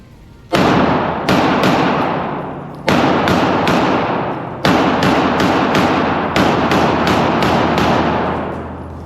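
Sharp, loud pistol shots crack in irregular bursts during a 15-round shooting drill: several quick shots, a pause, then more, each ringing out with a short echo.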